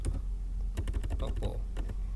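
Keys tapped on a computer keyboard in an irregular run of clicks, heard close alongside a voice speaking over the typing.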